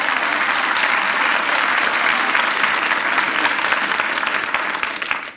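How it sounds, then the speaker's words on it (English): A studio audience breaks into sustained, loud applause for a trombone player on a radio comedy show, a thick continuous clapping that fades out at the close. "Let's have a little applause here for Miff."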